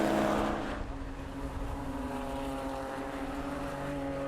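Porsche Cayman race cars at full speed on the Oulton Park circuit during a Porsche Club Championship race, a loud steady engine drone with a sharp onset easing into a sustained roar that carries on throughout.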